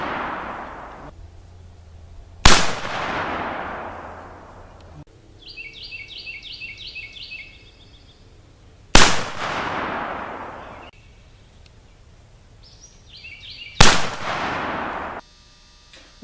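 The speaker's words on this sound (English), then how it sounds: "we're shooting the Super Walker, now with a red dot sight, and we are using 777 powder and a nominal 200 grain bullet" A Super Walker revolver loaded with 777 powder and 200-grain bullets fires three loud, sharp shots spaced several seconds apart, each with a long echoing decay, while birds chirp faintly between shots.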